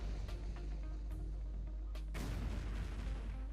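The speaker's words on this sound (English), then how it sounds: "As you can see now, I mean 4 mortars of 81mm. They should be able to do quite a big damage." Distant 81mm mortar fire in a Stalingrad battle game: a few muffled booms spaced about a second apart, the heaviest near the end, over a low constant rumble.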